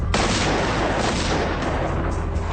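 A remotely detonated explosive blast strip goes off with a sudden loud bang at the start, followed by a dense rumbling roar that sustains and slowly fades, with no talk.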